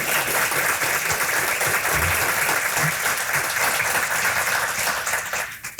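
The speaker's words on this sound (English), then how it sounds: "So let's give all of those groups a big round of applause." Sustained applause from a crowd at an annual supporter celebration, dense and even for several seconds before thinning out and stopping at the end.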